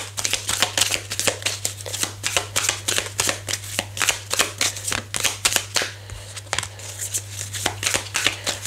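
Tarot cards are shuffled and handled in a rapid, steady run of crisp riffling flicks close up, with a constant low hum underneath and no talking.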